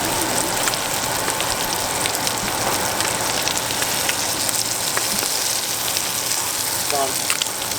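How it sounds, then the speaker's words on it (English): Blackened spiny lobster sizzles in a very hot pan, a loud, continuous hiss and crackle like heavy rain that holds steady throughout, with a faint voice briefly underneath. "listen for that sizzle. That's what you want. That's how you know your pan's hot enough."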